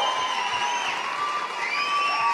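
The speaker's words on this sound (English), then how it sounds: "give him a big round of applause and thank you" A crowd at a CrossFit Open 17.4 workout event in Mexico cheers and applauds loudly and continuously, with whoops and shouts rising over dense clapping throughout.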